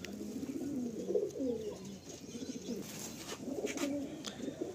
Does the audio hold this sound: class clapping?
no